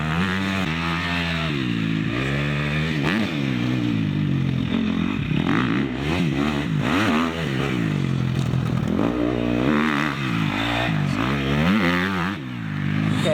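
A motocross bike on a practice track revs hard and steadily, its engine pitch climbing and dropping over and over as the throttle opens and closes, loud and close throughout.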